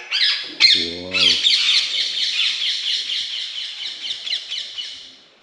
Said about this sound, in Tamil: இதை பாருங்க கிளி.